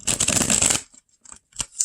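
Tarot cards being shuffled, a dense rapid riffle lasting under a second, then a few soft separate card flicks and slides nearby, with no voices.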